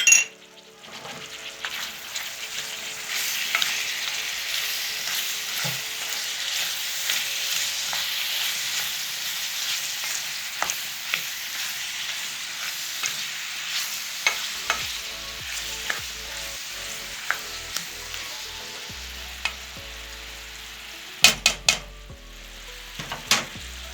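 Garlic sautéing in a pan for a beet sauté, a low, even sizzle running throughout with scattered clicks and clinks of a utensil against the pan growing more frequent later, close and fairly quiet.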